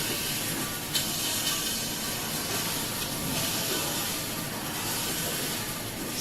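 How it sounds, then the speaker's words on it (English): Dense continuous hissing and sizzling of oil inside an automatic cooking robot, with garlic added, loud and steady without pause, spraying crackle throughout. "oil splashing, sizzling, I would say"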